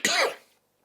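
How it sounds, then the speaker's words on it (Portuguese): A single short, sharp cough, close and loud, that dies away quickly into silence. "desculpa pela tossida aí"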